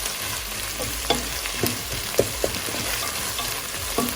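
Onions with ginger-garlic paste for mutton pulao sizzle steadily in a pan while a spatula scrapes and taps in a few sharp strokes, close and continuous with no talk.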